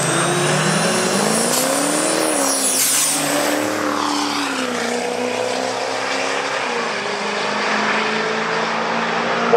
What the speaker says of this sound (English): The Bullydog truck goes 12:02 at 102 miles an hour.